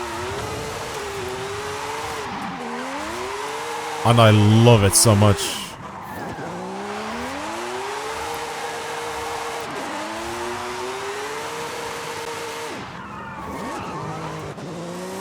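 A formula drift car in Forza Horizon 5 screams as its engine revs rise and fall in repeated sweeps, with a brief loud burst of tire squeal near the middle, all under steady close talk.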